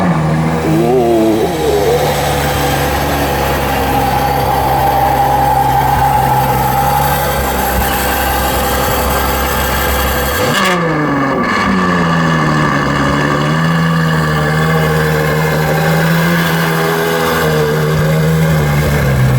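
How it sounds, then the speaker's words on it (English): A Ferrari 812 Superfast with its V12 engine runs loud and close, rising through revs and then dropping after a sharp shift before climbing again, with steady engine roar throughout and no talk. "we're hopping in the 812 demonstrator here with Mr. Chris."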